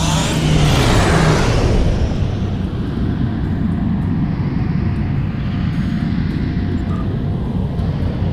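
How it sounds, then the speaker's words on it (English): Starship slipstream drive engaging in the Star Trek Online video game: a loud, steady roaring whoosh that swells at the start and then holds as a continuous broadband rush, with no voices. "Now we'll slipstream."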